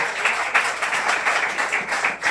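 A church congregation at a Holy Communion family service applauds loudly, a dense, steady wash of many hands clapping together for a couple of seconds.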